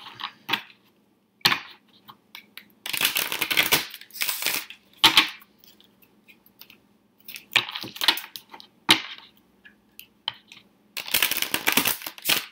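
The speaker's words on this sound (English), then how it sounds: "I'm going to shuffle these actually." Bursts of papery riffling and card flicks from a Romance Angels oracle card deck come in several clusters with short quiet gaps, close and fairly crisp, no talking.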